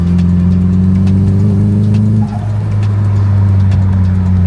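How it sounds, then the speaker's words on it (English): A Nissan S15 fitted with a DMAX exhaust sits close by, its engine revving through steady, loud, droning tones that dip briefly midway before resuming. Faint bird calls sound in the background. "you can kind of hear the turbo now as well, which is really cool"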